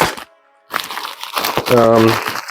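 Close crinkling and crunching of packaging being cut and pulled apart, in short bursts with a pause, a voice speaking briefly alongside.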